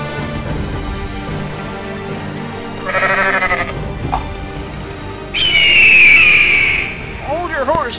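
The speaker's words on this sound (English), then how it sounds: "Is there a little sheep?" A sheep bleats a few times, loud and close, amid whistle-like tones and other sounds in a dramatic animated story setting.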